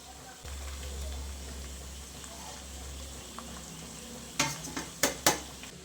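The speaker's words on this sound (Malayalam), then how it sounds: "ചിക്കൻ നല്ലതുപോലെ ഫ്രൈ ആയി വന്നിട്ടുണ്ട്" A steady low sizzle of chicken frying in oil carries throughout, then several sharp metal scrapes and clanks of a utensil against the pan near the end.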